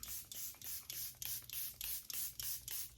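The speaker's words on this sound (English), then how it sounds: "I'm gonna set everything with the Charlotte Tilbury Airbrush Flawless Setting Spray." Rapid repeated spritzes of Charlotte Tilbury Airbrush Flawless Setting Spray, about a dozen short hissing bursts of fine mist in steady rhythm, close and soft.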